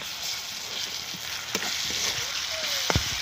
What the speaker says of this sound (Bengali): কড়া গরম হয়ে গেছে, তেল দিয়ে দিচ্ছি। তো আমি পেঁয়াজ কুচি দিয়ে দিলাম, রসুন বাটা দিয়ে দিলাম